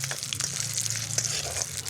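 Food sizzles in hot oil in a pan during Batticaloa-style home cooking of puri, a steady close crackle and hiss that continues without talk over it.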